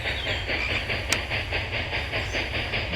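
A train in the video game Railroad Tycoon 3 rolls steadily along the tracks with a rhythmic clickety-clack and a constant hiss, one sharp click partway through, no voices.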